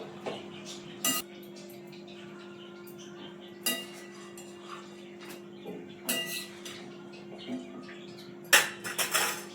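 A spoon scrapes and clinks against a pan as chicken seasoned with turmeric and salt is stirred during frying, sharp metallic knocks spaced irregularly over a low, steady hum, close and fairly quiet.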